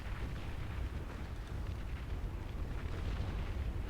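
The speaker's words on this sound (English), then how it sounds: "big explosion" A big explosion in the Beyond All Reason strategy game, with hover tanks fighting an atomic bomb blast, rumbles as a dense, sustained low roar with crackling debris, steady and loud throughout.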